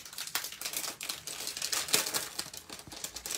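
A stapled package being opened, giving continuous close crinkling and crackling of paper or plastic with rapid irregular bursts and a brief tearing swell midway.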